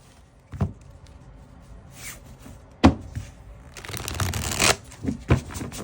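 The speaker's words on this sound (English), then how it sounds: "Much better shuffle than the previous version." Trimmed Gaian Tarot cards shuffled by hand, a few quick riffling bursts and soft card slaps, close and fairly quiet, separated by pauses, with a longer rustling riffle near the end.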